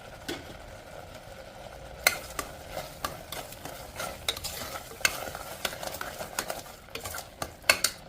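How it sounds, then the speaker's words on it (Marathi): A spoon stirs carrot halwa with sugar, cashews and almonds in a pan, making soft scraping and faint sizzling with occasional sharper clinks of utensil on metal, close and steady. "आपण ते सुद्धा व्यवस्थित आटेपर्यंत याला ढवळत राहूया"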